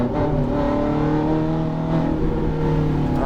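A Ferrari F430 F1 engine pulls hard on a race track, a loud, steady, high-pitched drone with rising harmonics that holds for the whole stretch without any talk.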